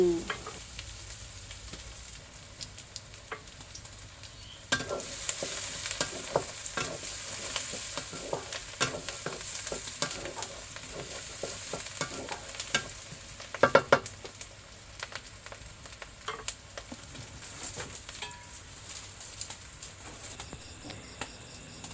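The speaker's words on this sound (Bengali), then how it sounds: "পেঁয়াজ কাঁচামরিচ দিয়ে ভালো করে নেড়ে চিড়ে নেব" Sliced onions and green chillies sizzle steadily in a pan while a spatula scrapes and taps irregularly, the frying swelling louder after a few seconds and continuing without speech.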